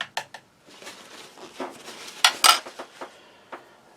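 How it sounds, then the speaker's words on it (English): An army ration spoon rinsed in a mug, knocking and clinking against the sides in scattered bright taps with soft water movement between, close and fairly quiet, alone. "Let's give the spoon a little rinse."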